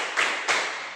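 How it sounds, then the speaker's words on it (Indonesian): Classroom hand clapping in an Islamic religious education lesson, two short sharp claps spaced about a third of a second apart, close and crisp with no talk. "Tepuk 1. Tepuk 2. Tepuk 3."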